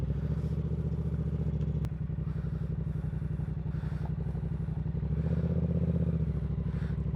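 A Yamaha R7 motorcycle engine runs at a steady, close idle for the whole stretch, a continuous low throbbing rumble with a brief sharp click near the start and no talking.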